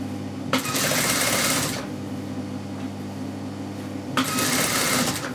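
A sewing machine stitches single-fold open bias tape around a garment edge in two loud, steady motorized bursts with a quiet pause and a low hum between them.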